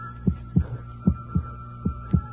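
A low, muffled heartbeat thumps in steady double pulses over a soft hum, quick and regular, with no other sounds.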